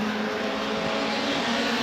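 Formula race cars from the MRF Challenge MRF 2000 series pass on the track, a loud sustained engine roar that holds steady through the short stretch.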